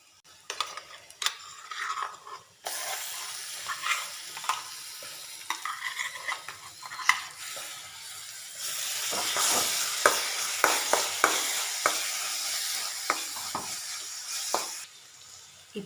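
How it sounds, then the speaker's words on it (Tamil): Ground masala stirred into sautéed onions in a pan for egg aviyal, sizzling and frying with scraping stirs and light utensil clinks, close and fairly quiet. "இப்போ நம்ம அரைச்ச மசாலாவை வதங்கிட்டு இருக்க வெங்காயத்தில் சேர்த்துக்கலாம்."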